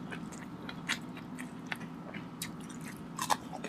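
Crunchy bites into a Filipino breakfast of fried dried fish (tuyo), tocino, fried eggplant, egg and garlic rice, with several sharp close crunches scattered over a low background hum, the loudest near the end.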